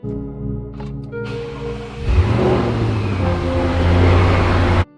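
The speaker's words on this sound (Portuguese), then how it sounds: "vamos ouvir exatamente como é o som do escapamento" An Audi RS6 idles with a steady engine and exhaust note, then the engine blips and settles into a louder, rough-edged exhaust rumble after a couple of seconds, close to the car with no talk.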